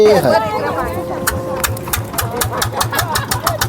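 A boat engine chugs steadily during a river crossing on the Narmada, a loud, low, rhythmic thumping with a rattly upper layer, briefly overlapped by a voice at the start.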